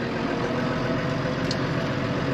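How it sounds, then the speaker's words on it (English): Tractor engine running while driving, a steady dense broadband drone with a low rumble, loud and close from start to finish with no voices. "I am driving the tractor down to the processor"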